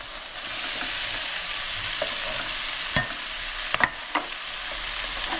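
Prawns seasoned with black pepper hiss in hot oil with a constant bright sizzle, broken by a few sharp spits and pops near the end, close and loud, no voices.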